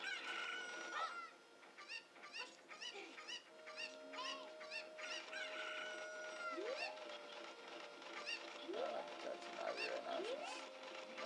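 Cucco chickens in Zelda: Ocarina of Time, repeated clucks and a crowing call amid busy game sounds and rising chirpy tones, moderately near.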